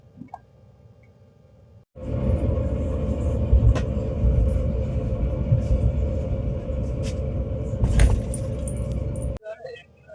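Steady rumbling of the moving Howrah–Bengaluru superfast train 22887 fills most of the clip, with occasional clanks and rattles over the constant drone.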